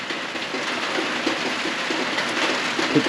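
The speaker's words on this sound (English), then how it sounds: "It's pretty rainy outside." Rain falling on a tin roof outdoors, a dense continuous patter and hiss with faint scattered louder drops, steady and fairly loud throughout with no voices.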